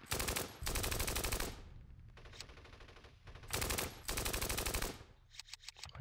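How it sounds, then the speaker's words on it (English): Bursts of rapid automatic gunfire from the tactical war game Steel Panthers, set in the 1980 Iran-Iraq war, as an infantry squad comes under fire: loud sustained volleys separated by short quieter gaps, with no talking. "Let's fire at this squad"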